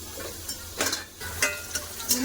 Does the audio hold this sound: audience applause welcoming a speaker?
no